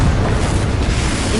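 A Confringo blast spell from Hogwarts Legacy erupts as a short, loud, booming explosion, dense and rumbling throughout its brief burst.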